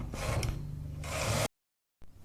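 A knitting machine carriage makes rattling, ratcheting mechanical passes while knitting rows of a woolen scarf border, two close bursts followed by a brief silence and another start.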